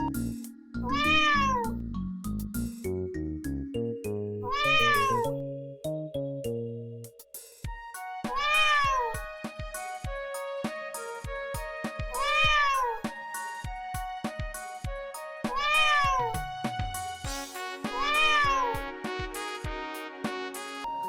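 Cats in a children's story about three cats and fish meow repeatedly and loudly, each call a rising and falling cry, set over a playful musical backing with no talk.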